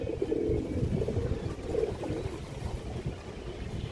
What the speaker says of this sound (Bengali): এই দেখেন, ইন্ডিয়ান হাই ফ্লাওয়ার কবুতর দর্শক এগুলো